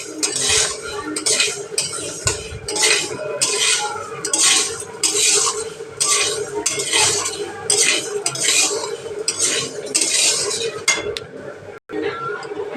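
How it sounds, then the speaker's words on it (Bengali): Moong dal dry-frying in a pan, with a utensil repeatedly scraping and clinking against the metal in rhythmic strokes, close and fairly loud, and a low voice now and then. "ততক্ষণ এটা ডালটা ভেজে নিই।"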